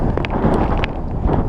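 Strong wind buffeting the microphone while riding a bicycle to school, loud low-pitched rumbling gusts with a few brief thumps, no talk.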